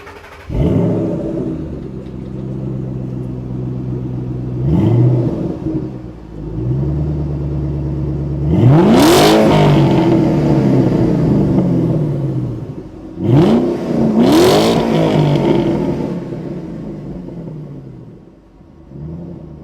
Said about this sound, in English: Most of the time they don't let you rev the car that high when it's cold.